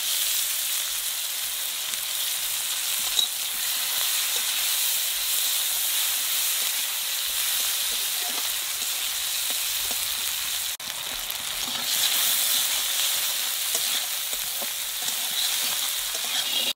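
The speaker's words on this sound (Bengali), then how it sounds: "পেঁয়াজটা একটু ভাজা ভাজা হয়ে গেছে" Sliced onions with green chilies fry in hot oil in a pan before okra goes in, a steady, even sizzle and hiss that carries on throughout with faint stirring clicks and no talking.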